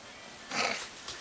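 Kitten in Sechelt giving a single short, soft meow, close to the microphone over a quiet room background.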